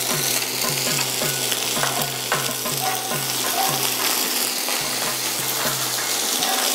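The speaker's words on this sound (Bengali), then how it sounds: "কাঁচা বাদামটা ভিজিয়ে রেখেছিলাম, এটি একটু ভেজে নেব।" Soaked raw peanuts frying in a pan, a loud continuous sizzle with rhythmic spatula strokes scraping and tapping close by.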